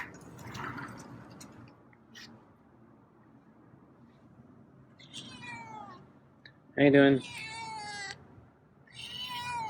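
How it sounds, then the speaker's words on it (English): A feral cat meows several times nearby, loud drawn-out cries with a short sharp one in between, while a person speaks briefly in a low voice. "So those are more proper meows."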